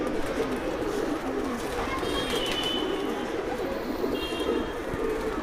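A Madrasi pigeon coos in low, soft, repeated calls close by, running under steady talking, with faint bird chatter in the background.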